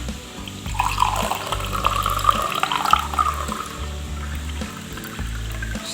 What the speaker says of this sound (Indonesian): Kita tuangkan air.